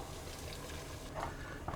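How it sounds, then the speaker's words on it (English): Warm milk is poured from a pot into a roux of butter and flour, a soft continuous liquid trickle under a busy background, with a slightly stronger splash near the end. "Now we're going to take a pot with some warm milk. We're going to pour about half of this in there."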